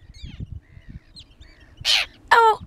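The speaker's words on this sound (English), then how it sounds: "You Icelandic birds are killing me!" Birds swooping and attacking after midnight in Iceland give two loud, harsh calls near the end, close by, following a stretch of low muffled rustling and thumps.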